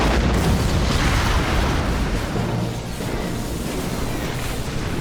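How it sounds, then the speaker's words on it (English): A super reactor blows up in the Red Alert 3 strategy game, producing a loud, dense, sustained roar of explosive rumble and crackle that barely eases over several seconds. "Super reactor has been destroyed."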